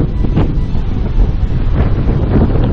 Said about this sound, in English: Here we are down at Martin Head Beach, and it's extremely windy.